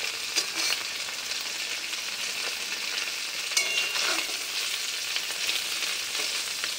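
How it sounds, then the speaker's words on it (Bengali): Paneer fries lightly in a pan with a continuous bright hiss and crackle, occasional louder pops and stirring scrapes breaking through, fairly soft and steady throughout. "এদিকে এখন পনির ভাজছি"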